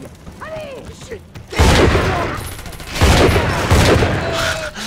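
Heavy gunfire from a weapon in the video game Bioshock 2 comes in two loud, sustained bursts after a quieter stretch of game noise. Faint talk sits underneath.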